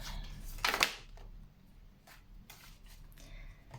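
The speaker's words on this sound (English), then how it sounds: "I'm going to live shuffle from the Royal Dark Tarot" Tarot cards from the Royal Dark Tarot deck being shuffled live, with a close burst of riffling around the middle of the first second followed by softer, intermittent shuffling rustles.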